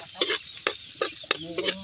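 Food being sautéed and stirred in a pan at a catch-and-cook meal, a utensil scraping the pan in a few separate strokes over a soft sizzle, close and fairly quiet.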